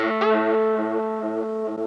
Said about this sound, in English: Just standard reverb and EQ on this.